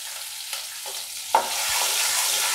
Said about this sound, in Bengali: এবার একটু বাদাম ভেজে নেবো এতে